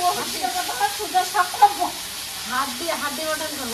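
Fish sizzles while frying in oil in a home kitchen, a soft steady crackle under someone talking.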